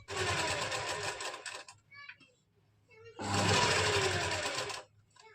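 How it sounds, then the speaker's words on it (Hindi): A sewing machine stitching kurti and lining fabric together with long stitches, running in two loud, close bursts of rapid whirring separated by a short pause with faint handling noise. "इनको मिलाते हुए हमने इसमें पूरे में बड़े टांके की सिलाई लगा देनी है"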